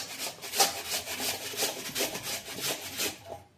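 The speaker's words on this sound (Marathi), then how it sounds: "बारीक किसणीवर मी असा किसून घेते." Red pumpkin is grated on a fine grater, a close, steady back-and-forth rasping with regular strokes about every third of a second, heard alone.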